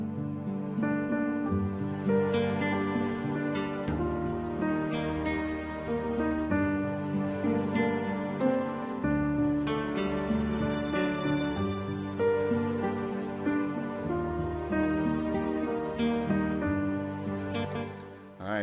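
Piano picks out a vocal melody over strummed guitar and sustained strings in a steady, moderately paced instrumental arrangement, with no voices.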